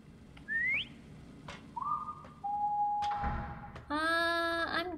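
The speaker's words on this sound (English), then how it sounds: "I'm coming close to the whistling sound." Eerie whistling tones in the horror game Lazaret, aboard a troubled ship: several rising and sliding whistles, one long sustained pitch, then a loud multi-toned whistle near the end over a low rumbling background.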